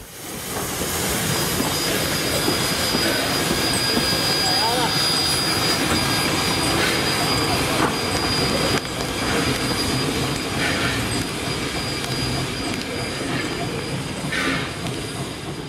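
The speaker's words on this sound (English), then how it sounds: "The two locos are now seen making their way to the front of the train" Two steam locomotives, just watered, make their way along the line to the front of the train at the Thirlmere Festival of Steam in New South Wales, a continuous loud rumble and hiss with broadband noise throughout.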